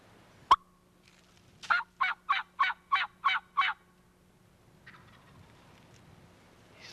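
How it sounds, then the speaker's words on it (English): Wild turkey gobbling outdoors at some distance: a sharp snap at first, then a rapid run of about seven even, rattling gobble notes lasting two seconds, followed by a faint call and quiet. "There is a ton of turkeys right all around here."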